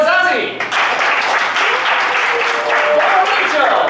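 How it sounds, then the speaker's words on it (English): Comedy club audience at an improv show clapping and cheering to vote for a performer, a dense, loud wash of applause with voices shouting over it. "Please clap for the person you want to stay in the scene."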